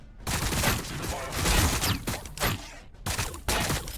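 Dense bursts of gunfire and explosions from the strategy game Warhammer 40000 Battlesector in a Tyranid versus Blood Angel match, loud overlapping volleys with brief gaps, with a voice talking underneath.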